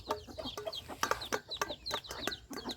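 Chickens cluck repeatedly at close range, a busy run of short, sharp calls and squawks from several birds overlapping in quick, uneven rhythm, with no one talking.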